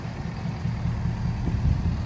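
Ford 6.7 Powerstroke diesel pickup with a 5-inch straight-pipe exhaust, deleted, idling steadily outdoors with a deep low rumble and slight swells in level, no voices over it.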